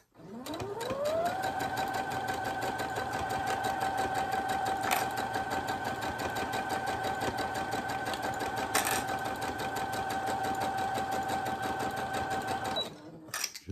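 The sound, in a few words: sewing machine stitching fabric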